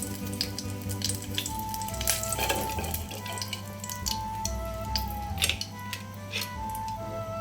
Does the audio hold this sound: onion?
yes